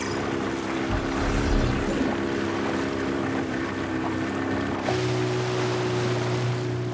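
Ocean off Ancón in northern Peru, with a steady droning motor, likely a fishing boat engine, running continuously over the sea; the engine note drops and settles into a lower steady hum partway through.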